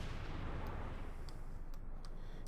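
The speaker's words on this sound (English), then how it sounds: "Artillery being called in the centre" Distant artillery barrage in Company of Heroes 2, a continuous low rumble of shelling with a few faint sharper impacts, heard at low level.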